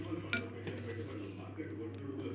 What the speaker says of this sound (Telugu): కరివేపాకు, మెంతులు అన్నీ వేసుకొని బాగా ఆయిల్ ఇలా మరగనివ్వాలి.